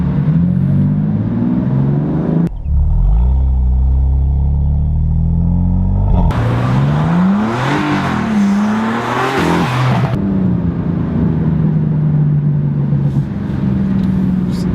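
A BMW M4 LCI Competition accelerates hard along a straight, engine note climbing through several gear pulls with abrupt shifts and a loud, rasping roar, close and without talk.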